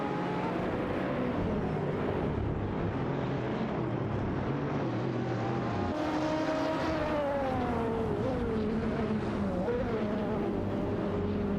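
Race car engines drone in a racing video game featuring a BMW V12 and a Lola Aston Martin B960, a dense continuous roar with pitch rising and falling as the cars accelerate and shift, heard at moderate distance.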